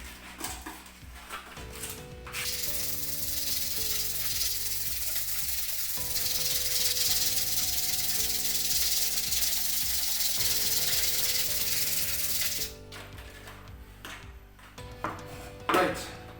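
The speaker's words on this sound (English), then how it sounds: "also have some sandpaper here, and in this case I'm going to scratch the surface of both products" Sandpaper rubs steadily across laminate and vinyl flooring, a close, sustained hissing scratch lasting about ten seconds, with quieter handling noises and background tones before and after.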